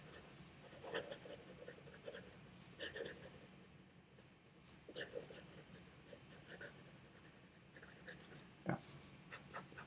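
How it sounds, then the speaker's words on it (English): Pilot Metropolitan stub-nib fountain pen moving quickly across paper, a soft scratchy scribble in short bursts, close and quiet, with a brief spoken word. "Let's try some fast writing."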